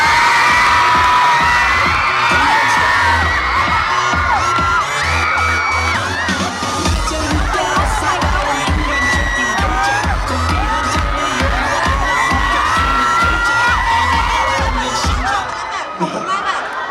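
A crowd of onlookers cheers and shouts loudly to vote for a dancer at an outdoor stage event in Lampang, Thailand. The roar is steady and close, with excited whoops and children's shrieks over a thumping music beat.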